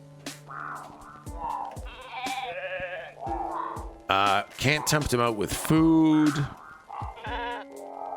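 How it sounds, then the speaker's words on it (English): A sheep-like bleating character voice from the Cat Detective video game, a series of wavering, quavering bleats mixed with game dialogue, rising into louder, shakier bleats midway. "Although he sounds like sheep"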